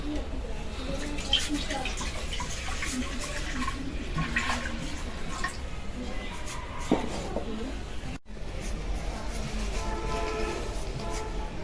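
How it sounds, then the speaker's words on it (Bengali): Water pours steadily into a kadai set on the stove for boiling country chicken eggs, a continuous close splashing rush with a brief break near the end. "পানি দিয়ে দিই"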